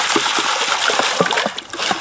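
Water sloshes and splashes steadily as sediment is saturated and kneaded by hand in a gold pan during wet panning, close and continuous with irregular splatters.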